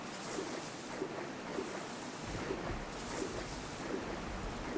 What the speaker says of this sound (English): Refer to the illustration to drain the pool.